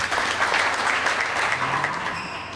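Crowd applause at an All-Ireland 40x20 men's handball final, a dense burst of clapping that fills the hall and gradually tapers off toward the end.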